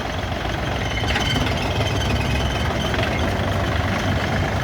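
A small diesel engine of a used Japanese 24-horsepower L1-245 mini tractor idles steadily and close by, a low rumbling chug with a faint knocking texture, no voices.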